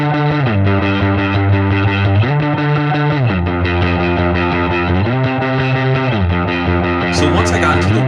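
Distorted electric guitar through a Fender amp with an overdrive pedal set around halfway on drive, playing sustained chords that shift pitch every second or so, loud and saturated.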